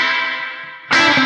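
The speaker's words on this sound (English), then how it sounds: "this is a little bit heavier spring," An electric guitar chord rings out and decays in a wash of spring reverb, then a second bright chord is struck and sustains.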